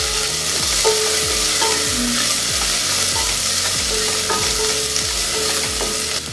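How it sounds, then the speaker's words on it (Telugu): Garlic and onion fry in a pan with cumin for poha khichdi, a steady sizzle under repeated rhythmic scrapes and stirs of a utensil against the pan, close and clear with no talking. "వెల్లుల్లిపాయలు 1 నిమిషం వేగిన తర్వాత 1 ఉల్లిపాయని ముక్కలుగా కట్ చేసుకొని వేసుకోవాలి"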